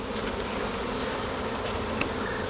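Honey bees buzz steadily around an open beehive during hive cleaning, a dense, close droning hum with no talking.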